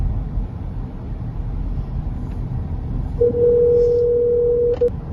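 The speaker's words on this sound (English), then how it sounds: "So let's make this phone call." A phone call placed to a property management office, with a steady ringback tone of about a second and a half rising out of low background rumble near the end.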